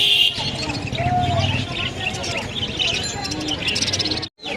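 Small caged birds such as budgerigars chirp and tweet at the Mirpur 14 Bottola bird market, giving a busy crowd of overlapping calls. Market chatter and voices run underneath.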